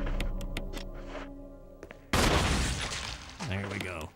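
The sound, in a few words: head explosion in a video game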